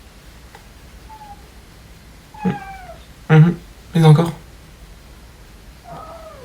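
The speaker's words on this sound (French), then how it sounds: "Les bruits que vous entendez, c'est mon chat" A cat meows several times, rising and falling cries close by, with a brief spoken voice in between and quiet room noise.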